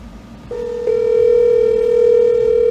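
A single steady ring tone from a PBX phone extension in a server closet starts abruptly and holds as a continuous electronic buzz, clear and close, with no voices.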